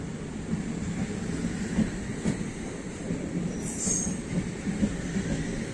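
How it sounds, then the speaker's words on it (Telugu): From on board a morning train between Jammikunta and Kazipet, a steady rumble with rhythmic wheel clacks is heard as the train crosses from the loop line onto the main line, with a brief high wheel squeal midway. "ట్రైన్ లూప్ లైన్ నుంచి మెయిన్ లైన్లకు అయితే ఎంటర్ అవుతుంది"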